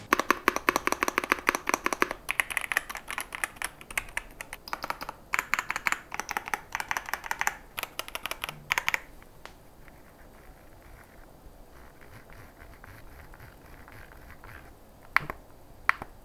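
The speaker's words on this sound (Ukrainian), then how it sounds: "Модель Ajaz AK650 отримала механічні лінійні перемикачі Flying Fish" Quick clattery keystrokes on an Ajazz AK650 mechanical keyboard with Flying Fish linear switches, dense and fast at first, then sparser taps fading to near silence with a couple of final clicks.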